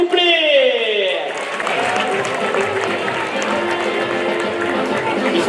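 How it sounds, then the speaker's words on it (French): Crowd at an outdoor toro piscine bull game in Le Cres, France, clapping and cheering steadily after a bull run, preceded by a brief rising whistle or horn-like tone; dense applause continues throughout. "On peut l'applaudir bien fort, s'il vous plaît."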